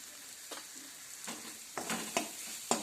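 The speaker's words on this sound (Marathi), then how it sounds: "छान असं वाटण परतून घ्यायचं थोडीशी हळद घालायची" Ground spice paste with turmeric is sautéed for a matki curry, a soft, low sizzle broken by several sharp scrapes and clinks from stirring.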